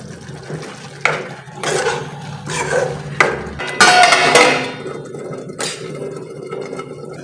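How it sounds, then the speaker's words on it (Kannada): A small bowl of water poured into a pan of spinach with salt and turmeric, heard as a few short, close splashing bursts separated by quiet gaps. "ಚಿಕ್ಕ ಬಟ್ಲಲ್ಲಿ 1 ಬಟ್ಲಷ್ಟು ನೀರು ಹಾಕ್ಕೊತಾ ಇದ್ದೀನಿ."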